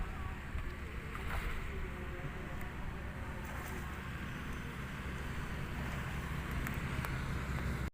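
A private motor boat's engine drones steadily at moderate distance over wind and lapping water on a river near the sea, a continuous low rumble with no one speaking.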